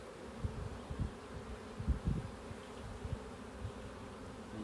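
Honeybees hum steadily inside an open hive, a soft, continuous low drone with small swells and a few louder passes of individual bees close by.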